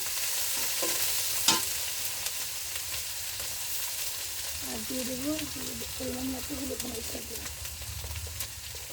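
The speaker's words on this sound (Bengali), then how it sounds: "দিয়ে দিলাম পেঁয়াজ বাটা আর আস্ত কয়েকটা কাঁচামরিচ, সাথে পরিমাণ মতো আদা রসুন বাটা" Onion paste, whole green chillies and ginger-garlic paste frying in a pan, giving a steady soft sizzle with stirring scrapes and a sharp clink near the start, while a faint voice or bird-like tone drifts in midway.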